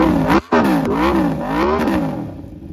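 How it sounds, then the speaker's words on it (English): An Aprilia motorcycle fitted with a titanium exhaust revs close by, rising and falling in several quick throttle blips with a brief cut in between, loud and alone. "Sounds like an expensive Italian motorcycle."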